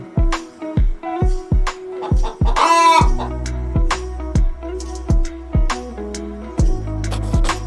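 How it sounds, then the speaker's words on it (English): A hen's clucking and a crowing-like squawk repeat over a steady rhythmic musical beat, loud and close. "H for hen."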